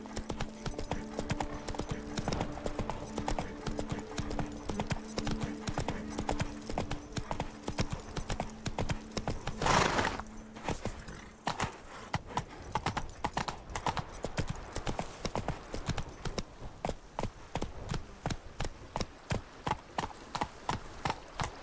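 Horse hooves clip-clop in a steady, brisk rhythm throughout in The Witcher 3, close and clear, with a short louder burst near the middle before the trotting carries on.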